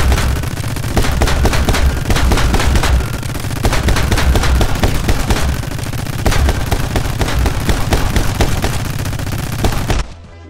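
Rapid gunfire from the action video game My Friend Pedro, dense bursts of shots packed tightly over a steady loud game soundtrack, continuous for about ten seconds before cutting off abruptly.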